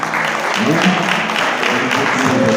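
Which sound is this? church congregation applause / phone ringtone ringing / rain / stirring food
church congregation applause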